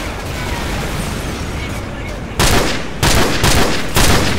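In-game gunfire in Call of Duty 4: Modern Warfare: a few sharp, loud shots in quick succession after a dense, noisy stretch, close and punchy.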